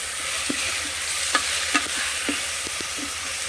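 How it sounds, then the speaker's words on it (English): Onions sautéing on saute mode in an Instant Pot, a continuous close sizzle with a few soft spatula taps and stirring scrapes scattered through, no voices. "we will saute these onions till they get light brown on the saute mode"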